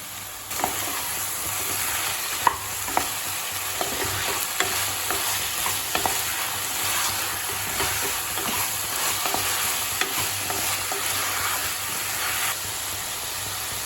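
Drumsticks, aubergine and carrot cooking in a pan for Tamil sambar, giving a steady close sizzle and bubbling hiss with occasional stirring clinks throughout, no talking.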